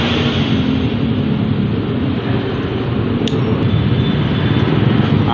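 A 0.5 hp 6-pole AC blower motor runs steadily at its top speed of about 1000 RPM, giving a loud continuous whir and rushing airflow with no break, close by and alone.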